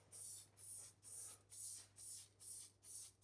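Short, even bursts of a marble-effect aerosol spray paint can hissing during stencil art, about seven quick sprays in a steady rhythm, close and fairly quiet, with no voices.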